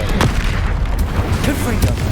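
A fire spell, Incendio, cast in the video game Hogwarts Legacy gives a dense, continuous roaring burst with low booming thumps that runs loud through the whole moment.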